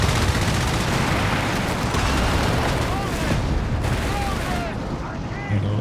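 Company of Heroes 3 tank battle with a Panzer III, a Crusader and an anti-tank gun: booming cannon shots and rattling gunfire merge into a loud, continuous wall of combat noise.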